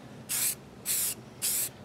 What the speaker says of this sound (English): So I'll spray, get it going, and then you want to be about 12 inches away